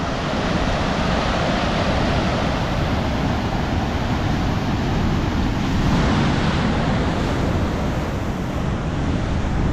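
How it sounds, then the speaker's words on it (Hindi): Large ocean waves crash and roar continuously at Madhavpur beach, a loud, dense wash of surf with a swell of extra force partway through and no voices. "और लहरें देखो कितनी बड़ी बड़ी आ रही है, ये वाली लहर देखो भाई।"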